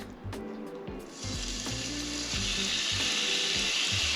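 Pork hits a hot pot and sizzles, the frying hiss building and holding steady at a moderate level, with a few clinks and knocks of utensils near the start.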